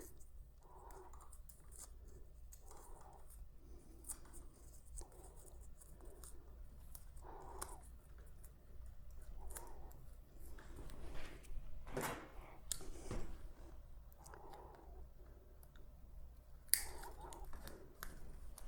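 Wire loom tape being wrapped around the wiring of an EGO electric lawn mower during a repair, giving soft intermittent crinkling and rubbing strokes with a few sharper snaps, close and fairly quiet over low hum.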